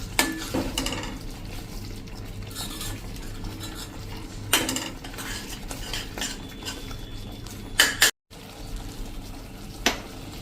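Onion curry with kasuri methi being stirred in a pan, with repeated scraping and clinking of a spoon against metal, a few sharper clanks and a soft sizzle underneath, close and steady with no talking.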